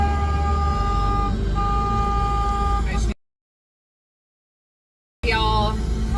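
Car horns honk at a slow-roll vehicle gathering in Saskatoon, sustained tones blaring over road noise, cut by a sudden silence before more honking and engine sound resume.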